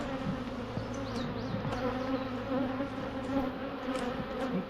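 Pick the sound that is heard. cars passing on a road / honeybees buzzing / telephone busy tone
honeybees buzzing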